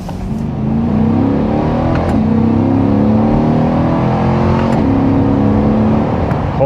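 A 2023 Corvette Stingray engine pulls hard on a rural road, its tone climbing steadily, then blipping through quick rev-matched downshifts; the loud, continuous roar fills the cabin with no speech.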